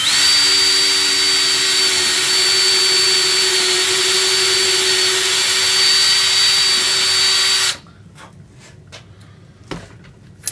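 A power drill bores a bolt hole for a portable LED shop light, whining loud and steady for about eight seconds before cutting off abruptly, followed by a few sharp clicks and taps.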